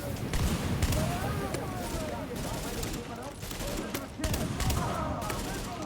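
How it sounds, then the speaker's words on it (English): A sawed-off shotgun fires in The Division in a busy firefight, with repeated loud blasts in irregular bursts alongside other gunfire and a voice talking over it. "Yep, sawed-off shotgun for the win."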